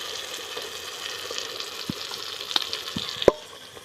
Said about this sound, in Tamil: மிளகா குழம்பு மிளகாய் தூள் ஆட் பண்ணி நல்லா வதக்கி விட்டுக்கலாம்